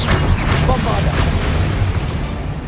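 Bombarda explosion spell cast in the video game Hogwarts Legacy, a loud, booming blast with a rumbling tail lasting nearly three seconds.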